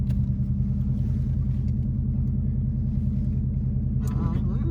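Four-wheel-drive vehicle climbing a steep slope slick with leaves, a steady low engine rumble heard from inside the cab, with a brief rattle near the end.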